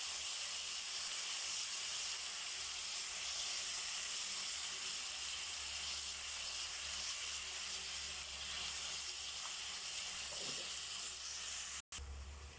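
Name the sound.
tomatoes sautéing with salt in a pan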